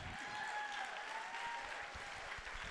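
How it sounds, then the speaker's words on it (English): A church congregation claps in dense, steady applause that carries on for several seconds, heard at a moderate distance with a faint tone ringing in the room. "Give him a clap."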